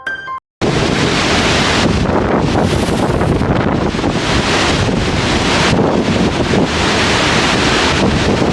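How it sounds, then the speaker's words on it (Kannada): Strong wind buffets the microphone at Unchalli waterfall in the misty, rainy Malenadu hills of Uttara Kannada, a loud continuous roar that starts after a brief dropout and keeps going without a break, with no talk. "ನೋಡಿದ್ರಲ್ಲ ಗಾಳಿ ಫೋರ್ಸ್ ಎಷ್ಟಿದೆ ಅಂತ"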